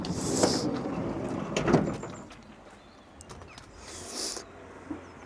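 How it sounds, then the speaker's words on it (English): A Ford Connect van's sliding door is pulled open: a couple of rolling clunks and a latch release, then a quieter mechanical slide and a final knock, heard fairly close in a quiet setting. "So I'll just open the sliding door."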